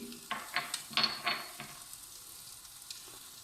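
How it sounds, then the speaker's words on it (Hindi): Finely chopped onion and green chili hit a hot pan, a burst of sizzling and spatula stirring for the first second and a half that settles into a faint, quiet hiss. "चॉप्ड अनियन और 1 चिली, बारीक कटा हुआ प्याज और बारीक कटी हुई हरी मिर्च, ये चली गई।"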